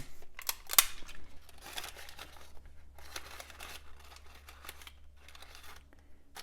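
Tape pulled from a roll and pressed onto paper for a candy chromatography lab, heard as faint, close crinkling and ripping bursts with a sharp snap early on and quieter rustles afterward.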